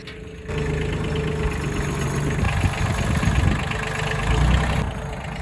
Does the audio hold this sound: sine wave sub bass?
no